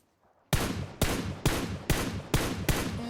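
Gunfire in the mobile battle royale game PUBG Mobile: after a brief quiet start, six loud, evenly spaced shots ring out close by, each followed by a short decaying tail.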